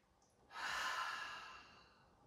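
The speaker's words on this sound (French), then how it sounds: "Inspirez par le nez pour expirer par la bouche." One slow, soft breath during a relaxation and stretching routine, drawn in through the nose and released through the mouth as a gentle airy exhale that swells and fades, close and quiet with no talking.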